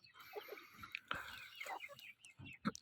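Farm chickens clucking faintly in a coop, with scattered short calls and soft background noise, quiet and somewhat distant.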